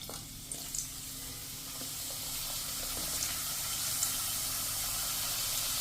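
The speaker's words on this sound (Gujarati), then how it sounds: "તો હવે આપણે વેફર તળી લેશું આ રીતે." Potato wafers fry in hot oil with a continuous soft sizzle and hiss, fairly quiet and even throughout, without any voices.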